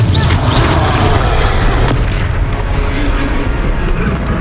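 A Confringo explosive spell blast in the Hogwarts Legacy video game, heard as a loud, sustained booming roar with dense low rumble that stays constant for several seconds without pause.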